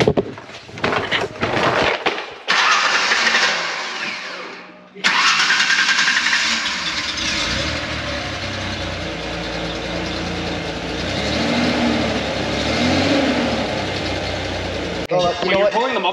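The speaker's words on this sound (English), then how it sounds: "So now we're gonna see what it sounds like straight out of the muffler." A Ford Ranger with its muffler removed cranks and fires up, the unmuffled exhaust roaring loud and close, then settling into a steady raw idle with slight revving swells; a person talks briefly.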